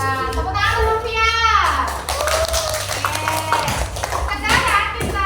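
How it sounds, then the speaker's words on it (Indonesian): Children in a classroom lesson clap together briefly, the claps blending with kids' chatter and an adult's voice that continues over and after them. "Tepuk tangan dulu ya."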